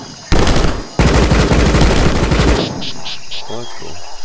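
Loud, rapid automatic gunfire from the co-op video game RocketBirds Hardboiled Chicken rips out in two close bursts, the second longer and sustained before cutting off, followed by a few faint clicking game sounds.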